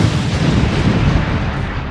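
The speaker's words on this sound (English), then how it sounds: "I heard a mighty explosion" A mighty gunpowder explosion in a dramatized tale of the Gunpowder Plot at Parliament: a dense, continuous low rumbling blast that stays loud and sustained throughout, with no voices over it.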